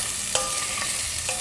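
Vegetables sauté in a pan with a soft, steady sizzle and a few brief metallic clinks from stirring, close by and fairly quiet with no speech.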